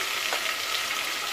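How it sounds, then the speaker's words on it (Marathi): Spice powders and masala sautéing in hot oil in a pan, a steady close hiss of frying with a faint scrape of stirring. "हे घालून चांगलं परतून घ्यायचं।"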